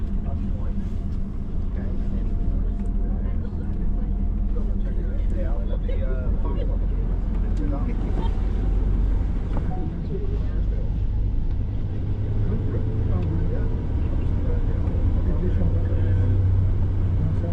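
A tour coach on a single-track road near Portree on the Isle of Skye, its steady low engine rumble and road noise droning throughout, with a guide's voice talking over it.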